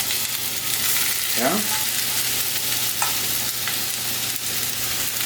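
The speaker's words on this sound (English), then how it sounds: "1 pound of thinly sliced onion. That's going to go into the pan." A pound of thinly sliced onion sizzles in about a tablespoon of vegetable oil in a pan, a steady close hiss with a few scraping stirs and a brief spoken word.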